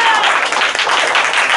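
Junior high school students in a math class give a short burst of dense, loud applause for a classmate, steady clapping from the whole room.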